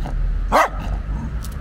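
A playful dog barks once sharply and close by, a single loud bark over low background rumble, while it plays roughly with a cat.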